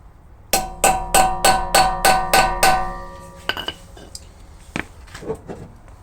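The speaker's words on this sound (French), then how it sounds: "D'où l'importance du marteau." Eight sharp, ringing hammer blows drive a screw extractor into an anti-theft wheel bolt in a steady rhythm, followed by a few scattered lighter clanks.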